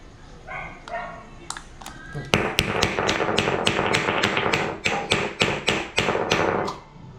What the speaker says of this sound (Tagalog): Gusto ko pa lang i-flex yung electric na martilyo ko.